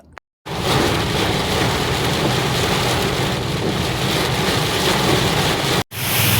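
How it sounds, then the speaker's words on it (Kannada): Heavy monsoon rain pours down steadily in Goa, a dense, loud, continuous hiss with no voices, briefly cut off near the start and again near the end. "ಈ ಲೆವೆಲ್ ಮಳೆ ಬೀಳಾಯ್ತು ನೋಡ್ರಿ. ಗೋವಾದಾಗ ಭಾರಿ ಮಳೆ ಆಗತೈತಿ."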